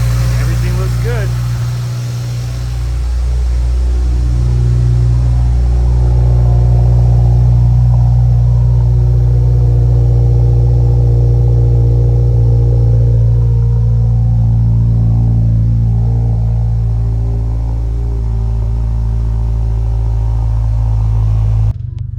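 A 2022 Subaru WRX engine idles while warming up, with a steady low rumble throughout, a constant close hum with no revving.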